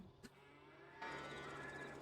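Cows moo in a farming simulation video game, a faint low moo set against quiet ambient game background sound.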